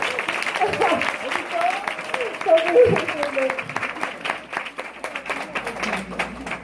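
Steady applause from an audience fills the room, with a voice speaking over the clapping throughout.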